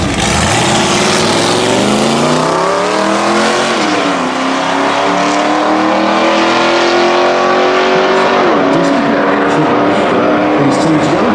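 Drag race cars at a UK multi-track street drag event launch and scream down the track, loud sustained engine roar with rising, shifting pitch sweeps and a gear change, close and continuous without pause.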